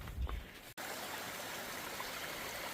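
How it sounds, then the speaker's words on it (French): A small river spills over a little cascade on the Appalachian Trail, its steady broadband rush of falling water continuous and fairly close, broken only by a split-second dropout early on. "Une petite rivière, cascade."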